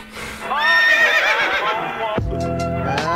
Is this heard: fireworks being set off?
no